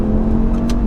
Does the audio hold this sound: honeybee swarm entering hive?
no